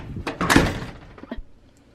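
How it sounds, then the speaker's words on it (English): A door is pushed shut indoors at home, a close, solid thunk with a brief rattle and a softer knock as it settles, then quiet. "Well, then I'll close the door."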